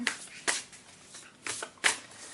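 A tarot deck is shuffled in close, crisp bursts, four or five short riffling rustles spaced across the moment with quiet gaps between, no talking.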